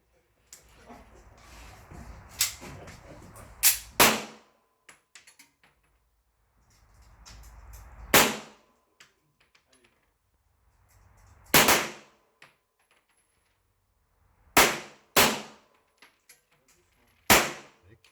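A newly bought handgun fires at a shooting range, with about seven sharp, loud reports spaced unevenly over the stretch. Quieter handling clatter and faint room noise fill the gaps between shots.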